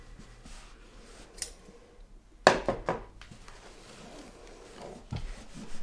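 Scissors trim fabric edges while making a fabric catchall tray, with a few quiet close snips and a sharper cut in the middle, mostly soft and sparse.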